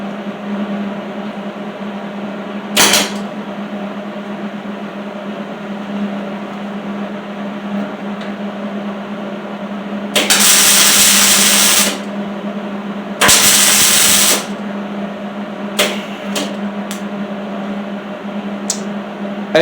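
A MIG welder with .035 wire crackles in several short bursts, two longer buzzing runs and a few brief taps, over a constant low machine hum while building an off-road wheelchair trike.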